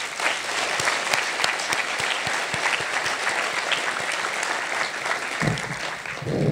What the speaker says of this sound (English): I'd like to have you give them another round of applause